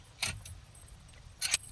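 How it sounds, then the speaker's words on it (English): Keys jangle in two short metallic bursts while unlocking a Monojoy steering wheel lock inside a car, close and fairly quiet. "Then you take your keys, unlock it."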